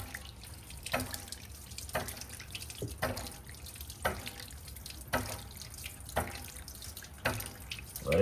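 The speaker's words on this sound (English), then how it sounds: "we're just gonna put that in some hot water. We're just gonna turn it on just a little bit." A tap runs hot water at a slow trickle to rinse a Smoky Lake filter press, splashing steadily with regular spattering bursts about once a second, close by, with no talk.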